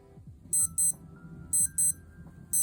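A Casio A168WEM digital watch alarm beeping in rapid high-pitched bursts, paired beeps repeating twice in close succession, heard up close with faint background noise.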